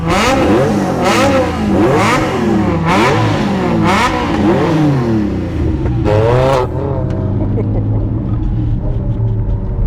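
A TVR Cerbera's engine revs hard on a runway against a Ferrari 360. Loud, close, repeated rising and falling revs sweep up and down, then settle into a steady rumble near the end.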